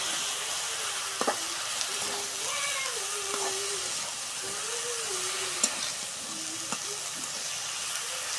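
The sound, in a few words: stirring taro stolons and potato with dried shrimp in pan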